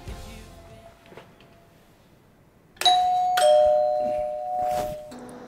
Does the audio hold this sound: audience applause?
no